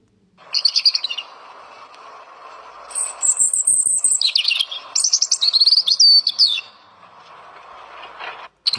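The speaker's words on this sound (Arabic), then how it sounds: "هذا عصفور أبو الحناء، عاودوا نسمعوه." A European robin sings alone in a series of high, thin warbling phrases and quick trills, clear and fairly close, with brief pauses between bursts over a faint steady background hum.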